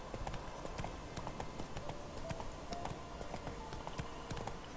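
Hooves clatter in a quick, steady rhythm as a horse gallops at night in The Witcher 3: Wild Hunt, the beats close and even throughout over a faint background hum.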